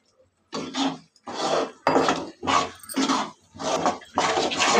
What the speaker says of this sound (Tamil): நீங்கள் ஆயில் சேர்த்ததுக்கப்புறம் கை விடாத கிண்டிகிட்டே இருக்கணும்.